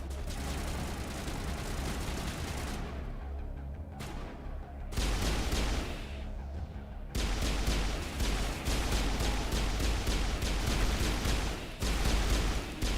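Sustained combat gunfire in Mass Effect: Legendary Edition crackles in dense rapid volleys with heavy low rumble, pausing briefly twice before resuming steadily and loudly.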